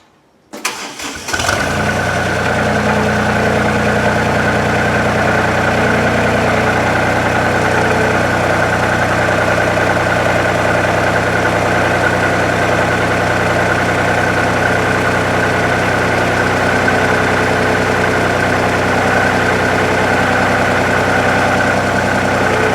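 A gasoline engine-powered rope winch cranks and fires up within the first second or two, then settles into a loud, steady running drone at low speed, unbroken and alone for the rest of the stretch with no talking.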